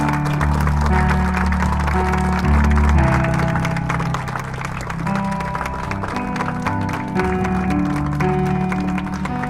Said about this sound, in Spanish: Dale palmas al Rey de Reyes, dale palmas.